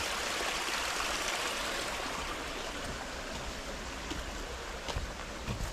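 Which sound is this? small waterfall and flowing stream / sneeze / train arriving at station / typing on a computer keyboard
small waterfall and flowing stream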